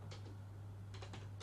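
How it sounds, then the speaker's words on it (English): A few soft keystrokes on a computer keyboard as a Linux terminal command is typed, faint and brief over a low electrical hum. "Then you type sudo pacman key"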